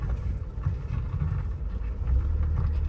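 An old Mercedes 190E being driven slowly out of a garage after hibernation, a low steady engine rumble with some wind buffeting, continuous and fairly close with no talk.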